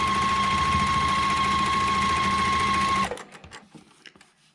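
A sewing machine runs fast and steady, stitching quilt block seams with a dense rattling hum for about three seconds, then stops, leaving a few faint clicks and handling noises.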